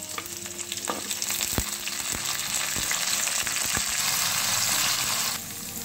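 Green chillies and curry leaves crackle in hot oil for a tadka, a steady loud sizzle with sharp pops and spits throughout, dropping slightly in intensity near the end.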